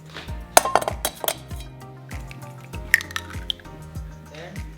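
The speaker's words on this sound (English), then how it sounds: "we're going to crack all of the eggs open" Eggs cracked open one after another into a bowl for French toast batter, sharp close taps and clinks against glass followed by drips and splats, in an uneven rhythm of several cracks.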